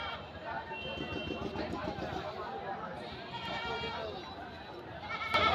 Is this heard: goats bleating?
yes